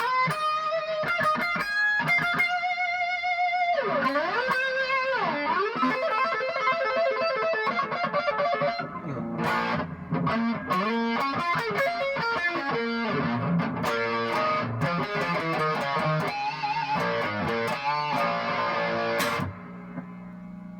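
Electric guitar played through a Roland GS-6 preamp on its Chorused to Bleed preset: shimmering chorused sustained notes and chords, then busier distorted lines with slides and bends, loud and continuous with no talking.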